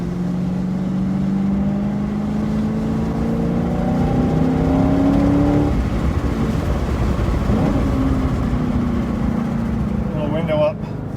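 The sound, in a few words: car engine revving while pulling onto the race track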